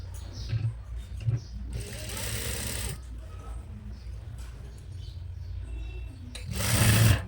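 Sewing machine stitching the folded hem of a nighty, two short loud bursts of rapid machine running separated by quieter handling and rustling, close up.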